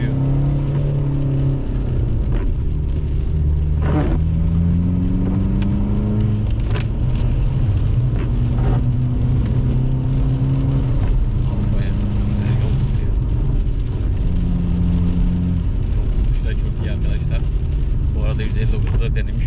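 An Alfa Romeo 159 on a road test in rainy weather, with a steady, loud drone of engine and road noise throughout while people talk over it inside the car.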